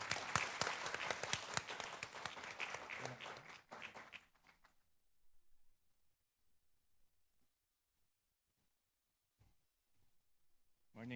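Audience applause for Senator Sherwin Gatchalian at a Philippine education memorandum signing ceremony: a few seconds of brisk, fairly loud clapping that quickly fades into near silence.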